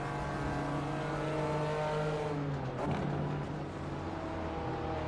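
A BMW race car engine in iRacing's M Power Tour howls loud and sustained as it accelerates, briefly dipping and swelling midway, with no voices.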